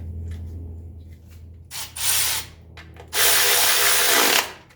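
A ratchet wrench clicks while threading the oil drain plug back into a 1985 Mercedes 300SD during an oil change, a short burst followed by a longer steady run of rapid ratcheting, close and loud, with no talk.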